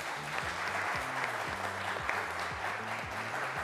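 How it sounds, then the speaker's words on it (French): Studio audience on a French TV game show applauding, a quiet, steady patter of clapping while a low tonal melody of background music plays underneath throughout. "On applaudit, public."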